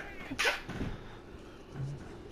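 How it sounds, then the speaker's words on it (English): Sneeze close to a microphone during a horror game session: one sharp, breathy burst near the start followed by a few softer vocal sounds and quiet room noise. "That's why I turned away to sneeze into the mic."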